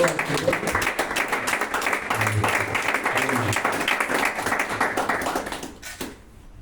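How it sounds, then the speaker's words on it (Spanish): Loud, sustained applause from a church congregation, dense clapping that holds steady for several seconds before tapering off near the end. "Vamos a darle un fuerte aplauso."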